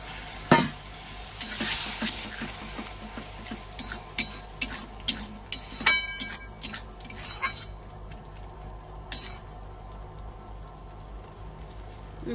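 Spices with a splash of water sizzle in a pan while a goat meat curry with potatoes cooks, a close crackling hiss broken by scattered stirring clinks and scrapes, with no talking over it.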